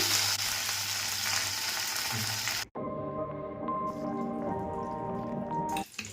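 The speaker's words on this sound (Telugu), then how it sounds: "ఆయిల్లోకి మనం జీలకర్ర, కరివేపాకు, కొంచెం 1 tablespoon ఆఫ్ పసుపు యాడ్ చేసుకొని తాలింపు పెట్టాలండి" Cumin, curry leaves and turmeric tempering in hot oil for a tomato chutney give a loud, steady sizzle up close, with a brief break partway through before the frying crackle resumes.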